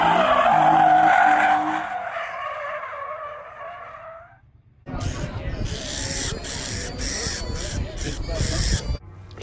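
A loud, close bird calls repeatedly at a vintage motorcycle race event, then falls silent as harsh tire squealing and engine noise from the drift pad take over.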